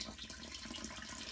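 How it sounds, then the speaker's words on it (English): Water pours steadily into a NuRecover ice bath tub, a continuous broadband rushing hiss with no pauses, close and moderately loud, with no talking over it. "Okay, so the water's going in"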